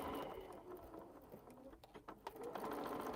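A sewing machine stitches a fabric bag in a steady, close mechanical whir with brief pauses, while pigeons coo faintly in the background.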